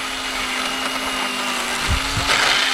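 A small Ryobi power tool whirs steadily while cutting firewood outdoors, a constant close motor drone with a slight change in pitch near the end and no talking.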